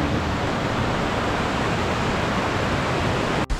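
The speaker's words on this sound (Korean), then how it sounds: "아, 이제 다리안 폭포가 있어서 이렇게 웅장한가 봅니다." Darian Falls in a mountain valley on Sobaeksan pours in a steady, full roar of rushing water, loud and close, with no voices over it.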